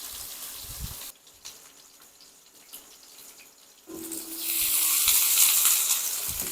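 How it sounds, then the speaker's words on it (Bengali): Potatoes, cauliflower and sweet pumpkin fry for khichdi bhog, starting quiet, then a loud, steady sizzling hiss that swells in the second half and holds near and bright, with no talking. "আস্তে আস্তে এটা ভাজবো, যাতে করে সুন্দর একটা ভাজার সুগন্ধ থাকে খিচুড়ির মধ্যে"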